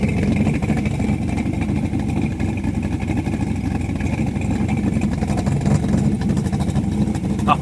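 A rebuilt 394 stroker V8 idles steadily and close by, with a constant low, rumbling lope that holds throughout and has no speech over it.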